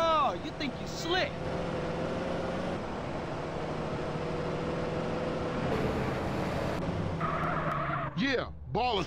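In the video game GTA San Andreas, a car's engine drones steadily while tires squeal and skid in repeated sweeping bursts, with characters talking over the driving and louder skids near the end.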